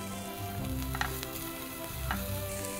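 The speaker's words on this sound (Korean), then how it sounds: "양파가 투명해지면 버섯을 넣고 소금 약간, 후추, 그리고 말린 허브 믹스를 넣어가면서 볶아주세요." Onion and mushrooms stir-fry in a pan with salt, pepper and dried herbs, giving a soft, steady sizzle with a few faint utensil clicks, close but quiet, with no talking.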